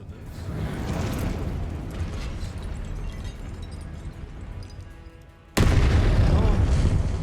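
An Incendio fire spell goes off in Hogwarts Legacy as a sustained roaring blast with rumbling booms, ending in a sudden louder burst, and a voice speaks over it.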